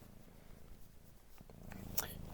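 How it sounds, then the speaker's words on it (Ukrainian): A cat purrs softly and steadily up close, a low rhythmic rumble, with faint rustling and a brief soft voice near the end. "Мікрофон боя має нормально передати муркотіння."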